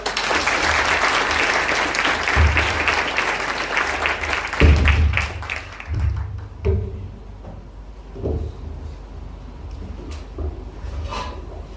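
An audience at a birthday celebration gathering claps for a science students' performance, dense steady applause that thins out after about six seconds into scattered claps and room noise.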